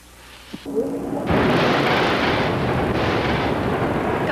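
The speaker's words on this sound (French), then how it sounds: "Comme le tonnerre et les éclairs" A sudden crack gives way to a deep, rolling rumble of thunder that swells and lingers, loud and broad, with no voices.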